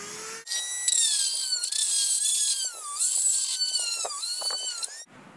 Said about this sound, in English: First one's going to be with a sort of drill-like cutting tool.